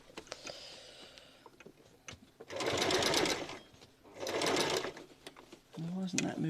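Domestic sewing machine stitching patchwork fabric scraps into a wheat bag cover, running in two loud bursts of about a second and a half each, with quiet pauses and a brief voice in between.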